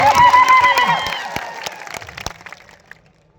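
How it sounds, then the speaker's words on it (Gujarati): Audience applause breaks out at a welcome ceremony, a dense patter of clapping that starts loud under some shouting and tonal sound, then thins and fades over a few seconds. "પરેશભાઈ જોરદાર તાળીઓથી ગડગડાટ."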